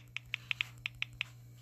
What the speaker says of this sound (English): let me just type it in this way